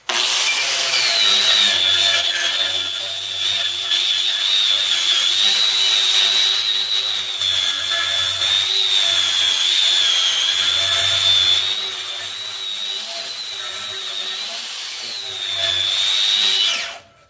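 A power-driven wire brush scrubs grime off a cast gantry riser surface, a loud, continuous high whine with a steady grinding buzz that winds down at the end.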